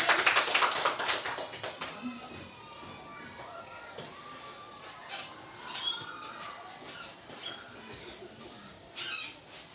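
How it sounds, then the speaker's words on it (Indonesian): An audience applauds Ibu Marlin at a teachers' session. The clapping is dense and loud at first, then thins into scattered, fainter claps with a few later bursts. "berikan aplaus untuk Ibu Marlin"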